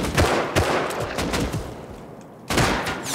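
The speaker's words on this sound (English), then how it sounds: "Oh, I just got shot from the tower." Gunfire in the video game Rust rings out in several loud, sharp bursts with short gaps between them, close and without talk.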